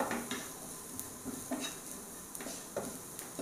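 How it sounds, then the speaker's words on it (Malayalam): Cabbage sautés in a pan with turmeric, coriander powder, garam masala and chili powder, giving a faint, steady sizzle broken by soft, regular spatula scrapes and taps. "ഒന്ന് വഴറ്റട്ടെ."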